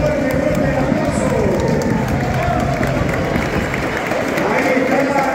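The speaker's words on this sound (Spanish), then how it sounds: "aplaudimos, fuerte, fuerte el aplauso" A dense, steady wash of crowd applause and noise at an outdoor carnival parade with a comparsa troupe, loud and sustained throughout without a break.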